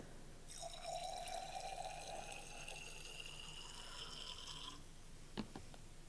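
Water pours steadily into a container holding nickel sulfate salt for several seconds, a hollow running trickle with a rising tone, followed by a couple of light clinks of glass.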